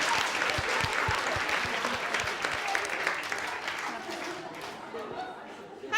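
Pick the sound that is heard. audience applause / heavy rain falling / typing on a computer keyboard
audience applause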